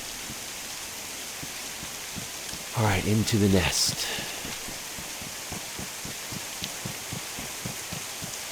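Rain falls in the video game DayZ as a steady, even hiss throughout, with someone talking briefly over it and light footsteps tapping underneath.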